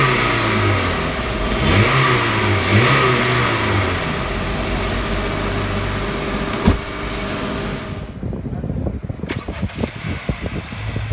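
A 2019 Honda City ZX with a 1.5-liter four-cylinder engine revs loudly and close up, rising and falling in pitch for about eight seconds before cutting off into lighter mechanical knocks.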